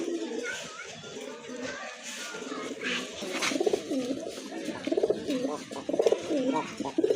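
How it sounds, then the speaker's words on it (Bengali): Pigeons cooing in a coop, soft repeated throaty coos in uneven bursts, fairly near, with faint children's voices and chatter in the background. "মাশাআল্লাহ বিগ সাইজের আরেক জোড়া কবুতর"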